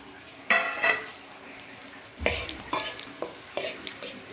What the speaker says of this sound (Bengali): কড়াই সর্ষের তেল দিলাম, আর তেজপাতা, শুকনো লঙ্কা আর 5 ফোড়ন সব একসাথে দিয়ে দিলাম।